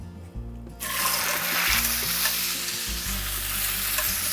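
Meat with green onion and garlic sizzles loudly in a hot pan with very little oil, a steady bright frying hiss that swells after a short quieter start, with stirring scrapes underneath.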